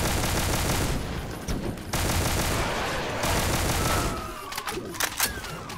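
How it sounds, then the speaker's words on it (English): Rapid marksman rifle gunfire in the Brutal Doom video game (Project Brutality 3), loud and dense bursts of shots with brief pauses, ending in a few sharp separate cracks. "We gotta pick them off with our marksman rifle."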